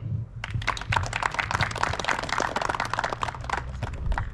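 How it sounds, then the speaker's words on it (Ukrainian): Steady applause from an audience at an award ceremony for the Pavlohrad mayor's cup, dense overlapping hand claps that keep a fairly even level throughout, moderately distant. "Подяка оплески."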